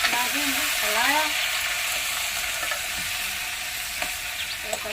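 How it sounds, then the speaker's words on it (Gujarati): A Gujarati spice tempering crackles and sizzles in hot oil while being stirred, a steady hiss with a few scraping knocks, and a voice talks briefly at the start. "જંભારિયા વઘાર દીધા, નાખી હલાયા."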